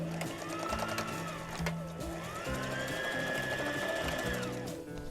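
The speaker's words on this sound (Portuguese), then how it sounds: "nós vamos voltar para a máquina, passar a costura reta" Sewing machine running a straight stitch on a patchwork fabric bag, a steady mechanical hum with rhythmic needle clatter throughout, close and moderately loud with no talk.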